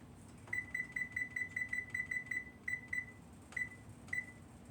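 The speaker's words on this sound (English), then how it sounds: "I'm going to go ahead and set the timer." Kitchen timer being set for tomato soup, giving a rapid run of about a dozen short, sharp electronic beeps, then two more spaced single beeps, over a low steady background hum with no talk.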